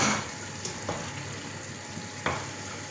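A spoon stirs saka-saka, cassava leaves cooked with peanut paste, after about 40 minutes of simmering with little water left. Soft sizzling and bubbling sounds, with a few light scrapes, close and fairly quiet, and no voice.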